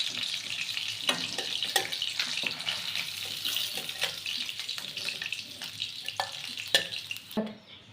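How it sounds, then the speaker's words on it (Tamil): Fish frying in hot oil, a continuous close sizzle with scattered pops and spatters and clinks of a utensil, no talk. "மீன் ஃப்ரை பண்ணி எடுத்துட்டேன்"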